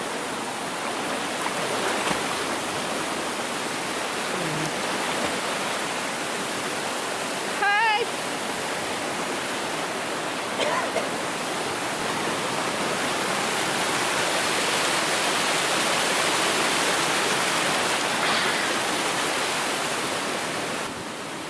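A waterfall in a forest stream gives a steady, loud broadband roar that stays constant throughout, with a few faint birdlike chirps and brief sounds briefly above the rushing water.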